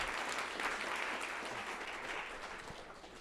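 A conference crowd gives a speaker a round of applause at a Bogotá tech event stage, steady, dense clapping that holds evenly for a few seconds before easing slightly, heard somewhat distant.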